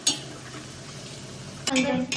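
Onions frying in oil for biryani birista, a soft steady sizzle with a few metal clinks and stirring scrapes from a utensil in the pan near the end, fairly quiet.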